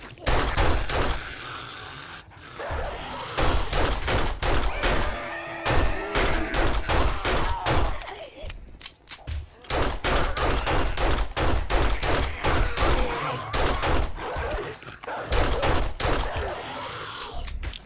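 Rapid, loud gunfire rings out through 7 Days to Die's horde night, dense bursts of shots packed closely together for nearly the whole stretch with only brief pauses between volleys.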